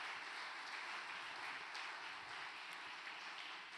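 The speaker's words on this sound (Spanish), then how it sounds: "Dale un aplauso al Señor porque el Señor es bueno con nosotros." A church congregation claps steadily and continuously, a dense wash of applause that holds at an even level throughout.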